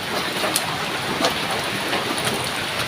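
Rain falling steadily around a village house, a dense continuous patter with a few faint sharper drips, even and moderately loud throughout, with no talking.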